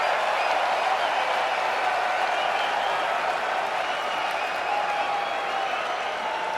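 Indian fans at an England v India Test match at Lord's clap and cheer steadily, a broad, continuous roar of applause from a big crowd lasting several seconds without letup.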